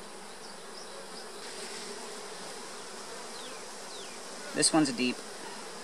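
Honeybees drone steadily in an opened hive infested with small hive beetles, a dense continuous buzz close by, with a brief voice and clatter near the end.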